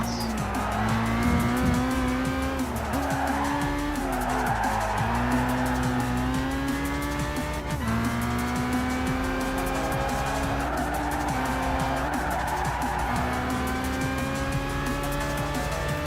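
Engine revving of a Toyota Yaris (Vitz) racing in Gran Turismo 5, with shifting harmonic tones as gears change and tire squeal layered on top, loud and continuous throughout.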